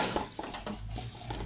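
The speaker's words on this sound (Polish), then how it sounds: "ojciec myje naczynia" Running water at a kitchen sink while dishes are washed gives a steady broadband hiss and splash, fairly quiet and unbroken, with faint clinks mixed in.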